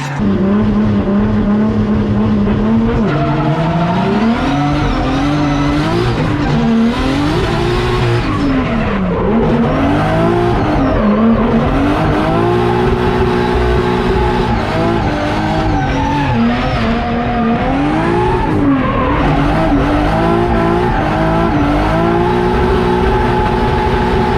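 Drift cars at a drift competition screech through slides, engines revving loudly with sustained tire squeal and skidding throughout, near and continuous with rising and falling engine pitch.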